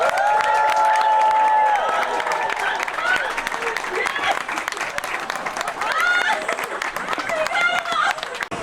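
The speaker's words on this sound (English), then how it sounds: "Let's give them a great big hand of applause." Crowd applauding and cheering for the Black Hills Shooters Association at an outdoor RV park show in Hill City, South Dakota, a steady loud wash of clapping with voices mixed in throughout.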